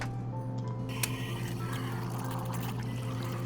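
Cold water pours steadily into espresso in a Nancy Drew game café scene, a continuous mid-level liquid stream over a constant low background hum, with one brief tick near the start.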